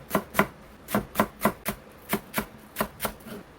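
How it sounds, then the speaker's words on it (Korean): Green onions chopped with a knife on a board, about a dozen crisp, evenly spaced knocks in a quick steady rhythm, close and clear with no talking. "이렇게 쪽파 좀 다졌고요."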